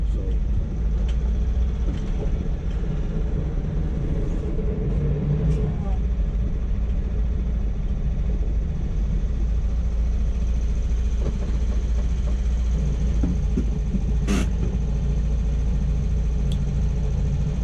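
A car engine holds a high idle because its accelerator is sticking, keeping up a continuous rumbling drone throughout with a few faint knocks and clicks, and no voices are heard.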